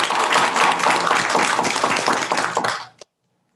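An audience at a school board meeting claps for award winners, giving steady, dense applause for nearly three seconds before it stops abruptly into silence.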